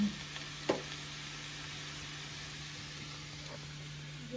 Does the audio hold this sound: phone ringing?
no